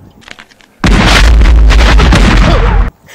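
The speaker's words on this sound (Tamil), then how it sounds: "அவருக்கு வடிவேலுக்கு வர மாதிரி டம்முன்னு வெடிக்கும்." A loud comic cartoon-style explosion boom bursts in suddenly, holding heavy and rumbling for about two seconds before cutting off, with faint sounds before it.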